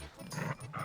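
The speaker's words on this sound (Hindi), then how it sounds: "ये कुत्ता किसका है?" A dog growls low and rough in a short, close burst, heard alone without speech in a street scene from a Hindi film.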